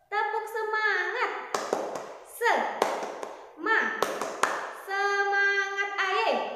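Children in a classroom do a rhythmic clapping chant, bursts of claps and taps alternating with loud sung, chanted voices in a lively call-and-response pattern.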